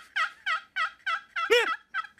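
A hunter's call mimics a hen turkey with a series of six sharp, evenly spaced yelps followed by one louder, squeakier note, all close and clear with no talking.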